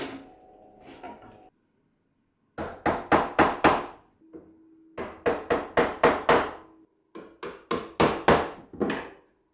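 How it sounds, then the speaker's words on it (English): A chisel is struck to square up a drilled mortise in whisky stave wood, heard as three close bursts of four or five sharp, evenly spaced knocks separated by short pauses. "Then I can square it up with a chisel."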